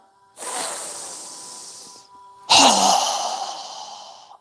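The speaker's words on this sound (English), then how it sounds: "exhale through our mouth with a strong breath as we lower our arms and hands down" Two strong breaths forced out through the mouth during a yoga breathing exercise, each a long airy hiss that fades gradually, the second louder and sharper, close and alone without talk.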